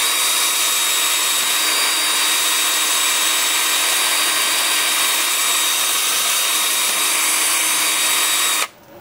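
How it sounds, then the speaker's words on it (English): A wood lathe spins a natural holly crotch piece at about 360 rpm, producing a steady, loud broadband whir with faint high tonal whine, continuous and unbroken until it stops abruptly at the end. "with the lathe spinning forward at about 360"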